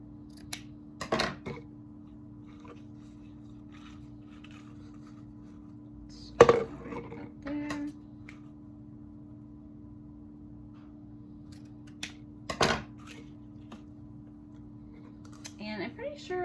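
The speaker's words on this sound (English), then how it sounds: "you're gonna cut your burlap" Scissors cut burlap for wrapping around a bottle in a few sharp, separate snips with long quiet gaps between them, close and fairly faint over a steady low hum.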